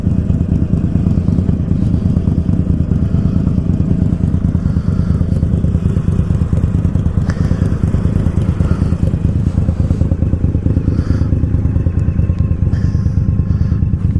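A Harley-Davidson Iron 1200 motorcycle engine runs continuously nearby, a steady loud low rumble with a rough pulsing beat and no voices over it.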